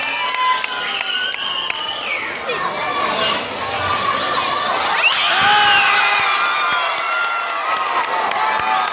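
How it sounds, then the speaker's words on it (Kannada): Spectators at a kushti wrestling bout roar and cheer in a dense, loud wash of voices with shouts and whoops rising over it, while clapping is hard to pick out within the noise. "ಪ್ರೇಕ್ಷಕರಲ್ಲಿ ಜೋರಾದ ಚಪ್ಪಾಳೆ ತಟ್ಟಬೇಕು"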